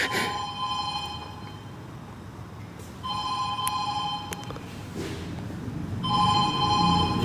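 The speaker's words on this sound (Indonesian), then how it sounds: "Suara telepon guys." A phone rings in repeated electronic bursts about three seconds apart, trilling tones over a steady noisy background, fairly close and clear.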